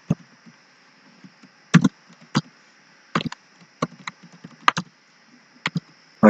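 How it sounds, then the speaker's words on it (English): A computer keyboard is tapped in short sparse bursts while a password is entered, with crisp close key clicks in uneven clusters over a faint steady hum. "Type in the password"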